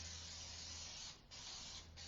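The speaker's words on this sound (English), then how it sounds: "it comes out in a fan sort of spray, so it does shoot out a little bit" Solvent spray can hissing out a fan-shaped spray during reupholstery of a dining chair, two close, steady bursts with a short break between them and no talk.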